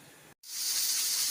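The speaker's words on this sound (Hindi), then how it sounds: "मैंने मुर्गी का गोश्त उबलने के लिए रख दिया है।" Steady bright hiss of a pot of chicken meat coming to a boil, loud and continuous after a brief silent gap.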